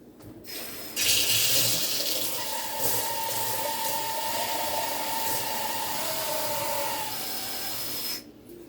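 Water pours steadily from a tap into a pot for about seven seconds, a continuous loud rushing splash that starts abruptly and then cuts off.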